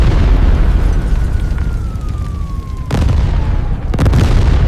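A constant roaring rumble broken by two loud, sharp blasts, with a faint descending whine before the first, like a large explosion scene depicting the 1993 Mumbai serial bombings.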